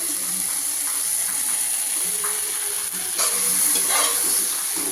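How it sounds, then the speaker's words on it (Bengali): Oats are stirred in a sizzling pan with salt and turmeric, giving a steady close hiss and frying crackle with soft scraping strokes throughout. "ওটসটি একটু ভালো করে নাড়াচাড়া করার পর এর মধ্যে পরিমাণ মতো জল দিয়ে দেবো"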